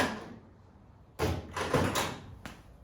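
Door of a 1971 Monte Carlo SS454 opening after a new cylinder lock is fitted: a quiet lead-in, then a sharp latch clunk and a rattling metallic swing with a few clicks, close and without talk.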